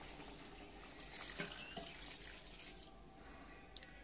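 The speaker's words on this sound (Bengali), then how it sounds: "এবার আমি এর মধ্যে জল দিয়ে দেবো" Water is poured into a pot of chicken and potato curry, a soft running, splashing flow building briefly in the middle and trailing off, fairly faint and close.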